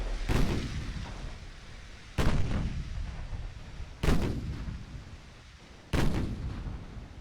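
Heavy booms from a naval 7-inch gun in the Ultimate Admiral Dreadnoughts warship game: four loud shots at steady intervals of about two seconds, each with a rumbling decay, and no voices.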